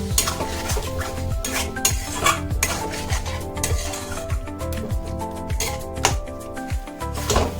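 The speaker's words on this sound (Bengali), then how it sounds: "অল্প পরিমাণে জল দিয়ে চিকেনটাকে ভালো করে কষিয়ে নিতে হবে।" Chicken stir-fried in a kadai with a little water, a busy rhythmic scraping of spatula against metal over a continuous sizzle, loud and close.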